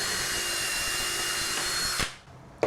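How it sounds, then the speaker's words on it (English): A power drill with a 3/16 bit bores through a rig hook handle, a steady close whine that runs for about two seconds, then spins down. A short knock follows at the end. "I've drilled through that handle."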